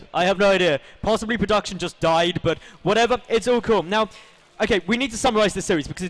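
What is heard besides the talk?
No distinct noise like a dog, phone or traffic.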